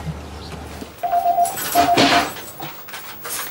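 A pigeon or dove coos from a nest overhead in a few soft, repeated low notes, moderately close, over a background hum with no talking.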